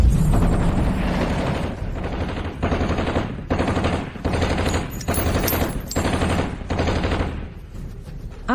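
Film gunfire: long, loud bursts of rapid automatic shots repeating in roughly one-second volleys separated by brief gaps, with no talk.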